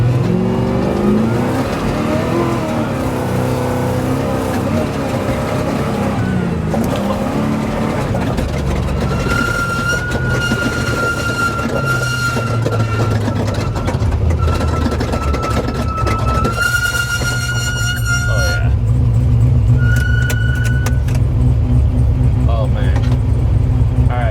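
A 1997 Ford F350 crew cab truck weighing about 6,200 lb drives past with a loud, sustained engine drone that shifts in pitch as it revs. People talk over it throughout.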